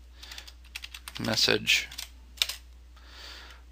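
Keys clatter on a computer keyboard as a command is typed into the Maya command line, a quick cluster of close clicks under a short spoken word.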